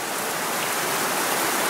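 Heavy rain pours steadily outdoors during a seed-planting outing with kids, a dense, unbroken hiss of water striking surfaces at close range with no voices.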